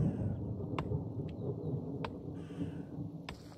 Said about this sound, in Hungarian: És dörög az ég.